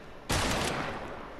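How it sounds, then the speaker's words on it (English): Fortnite gunfire hits a player in a single loud, sharp burst that cuts in abruptly and rings out briefly before fading into a hissy tail, no voices. "I'm shot from behind now."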